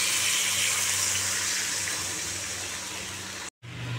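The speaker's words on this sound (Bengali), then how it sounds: "জল দিয়ে দিলাম" Water poured into a pot of meat curry cooking with turmeric and salt makes a steady, loud gushing rush. It cuts out abruptly for a moment near the end.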